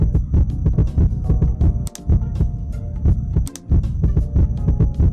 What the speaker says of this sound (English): You have a very, very fast heartbeat.